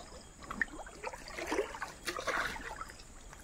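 A swollen stream in the Konkan countryside at night, where crabs are being caught, gives a faint, irregular trickling and gurgling of moving water close by, with no talk.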